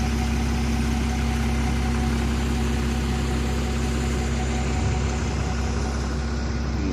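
A service vehicle's engine runs at a steady idle after starting, a loud, continuous low rumble with constant hum and no variation throughout.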